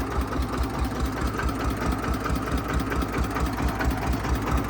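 An old, modified DT 14 tractor engine idles close by, a loud, steady low chugging with a regular knocking pulse and rattling vibration, no voices.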